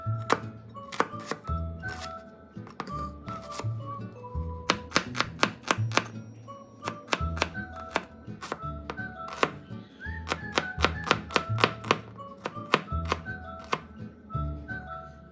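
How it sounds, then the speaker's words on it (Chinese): A knife dices one small onion, about 30 grams, on a cutting board with quick, crisp, evenly paced chops in close bursts, loud and near with no talking. "首先备好洋葱一个，约30克左右，切成小丁。"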